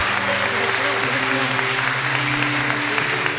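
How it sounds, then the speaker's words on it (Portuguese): Applause rings out at a Catholic church gathering in honor of Jesus Christ, the Good Shepherd; dense, steady clapping fills the room throughout, with held musical tones sustaining underneath. "Dê uma salva de palmas para o bom pastor, Jesus Cristo."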